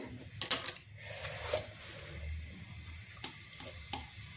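Cumin seeds drop into oil that has cooled in a pan for pickle making, giving a soft sizzle with a few sharp clicks and taps of a spoon or seeds against the metal, fairly quiet and close, with no voice.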